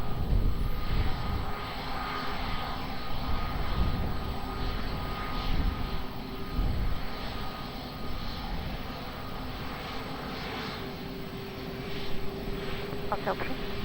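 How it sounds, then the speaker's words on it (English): Ryanair jet airliner on approach at Lisbon Airport, a steady, distant engine roar filling the scene throughout, with radio voices faintly present underneath. "Ryanair 85 micro, reduced to minimum approach speed."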